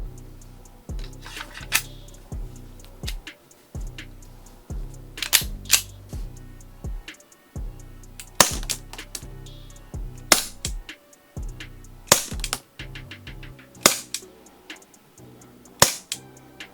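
A Walther PPK/S airsoft pistol, a Umarex-licensed VFC model, fires BBs in a long string of sharp, loud snapping shots at irregular intervals, each with a mechanical clack, close up with no talk.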